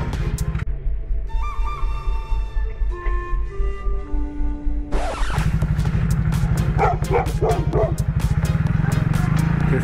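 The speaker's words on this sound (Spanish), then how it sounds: "Te ladra, pero no te va a morder." A dog barks in quick, loud bursts at a motorcycle whose steady engine drone runs underneath, with the barking growing busier midway through.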